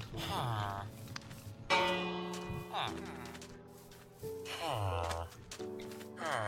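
A Minecraft bell rings several times in the game, clear metallic chimes recurring at intervals amid other game sounds, with voices heard between the strikes.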